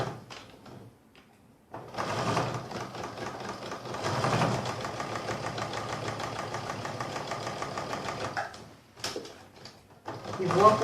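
A sewing machine runs close by, stitching fabric along a traced line for patchwork cup coasters. Its motor hums in a steady run of about six seconds after a short pause, then stops briefly and starts again.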